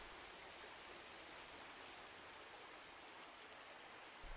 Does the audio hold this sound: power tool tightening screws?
no